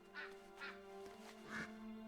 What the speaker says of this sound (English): I gotta go pet or help these mallards